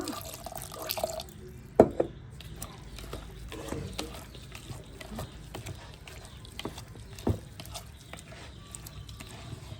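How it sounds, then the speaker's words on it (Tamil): Water is poured into a bowl of semolina and coconut dough for rava rotti, making intermittent close splashes and drips with small bursts and quiet gaps between them. "தண்ணி மட்டத்துக்கு விடுங்கோ."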